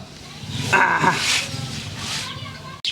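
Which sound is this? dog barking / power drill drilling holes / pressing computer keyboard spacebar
dog barking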